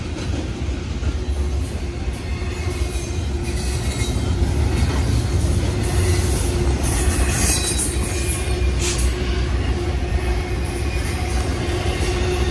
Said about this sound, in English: we got Amtrak 6, and we also got an intermodal train